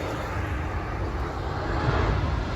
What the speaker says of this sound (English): Oh, we have an airplane. Check it out.